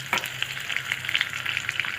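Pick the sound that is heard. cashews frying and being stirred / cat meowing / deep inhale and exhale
cashews frying and being stirred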